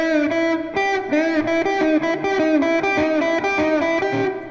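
Distorted electric guitar plays a pentatonic lead lick slowly, a sequence of sustained, clearly separated notes with bends, loud and alone.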